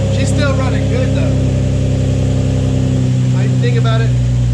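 A car engine hums steadily at a constant low pitch throughout, loud and close, with faint voices briefly audible over it.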